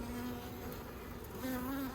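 Honey bees buzz in a busy, opened hive in Australia, a close, steady drone with a clear humming tone that wavers and swells, and no voices.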